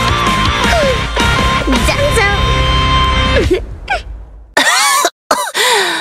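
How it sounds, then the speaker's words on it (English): A character in Zenless Zone Zero coughs harshly a few times amid busy game sounds, with voices talking over and around the coughs. "why are you coughing in my face?"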